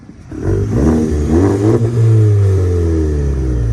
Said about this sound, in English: Let me get a rev.